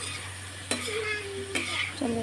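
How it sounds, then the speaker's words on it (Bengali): Spiced pointed gourd sautéed in a pan, with steady sizzling and a few sharp scrapes of a spoon stirring against the pan, close up and without talk. "চলো এটা একটুখানি কষিয়ে নিই"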